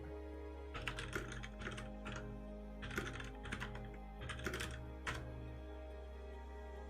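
Rapid bursts of typing on a computer keyboard, clustered clicks in quick flurries separated by short pauses, close and fairly quiet over a steady low hum.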